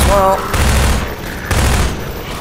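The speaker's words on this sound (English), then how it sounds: "Yeah, we want to be careful because the gunship's shooting in through the windows here." Combine soldiers and a hovering gunship trade dense gunfire in Half-Life 2 Episode 1, a continuous loud clatter of bursts layered with booming impacts and a brief mechanical whine at the start.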